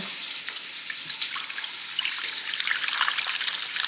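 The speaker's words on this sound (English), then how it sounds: "I'm gonna put in 3 cups of beef broth, which is almost this entire thing." Beef broth pours into a container in a steady, close splashing trickle that continues for several seconds without pause.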